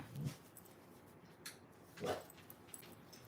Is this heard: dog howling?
yes